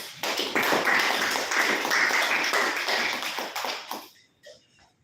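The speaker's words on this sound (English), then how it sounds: "Let's give him a round of applause." Toastmasters audience applauding the first speaker, dense clapping that starts abruptly, holds for about four seconds, then tails off into a few last claps.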